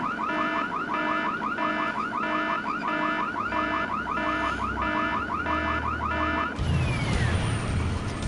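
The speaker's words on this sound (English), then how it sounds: "But who set off the alarm, Floyd?" A car alarm blares in the Full Throttle video game, a loud repeating electronic whoop cycling steadily before cutting off into a rushing burst of noise near the end.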